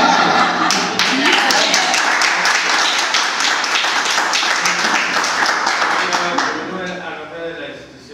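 An audience at a talk breaks into loud, sustained applause, a dense crackle of many hands clapping that fades out toward the end.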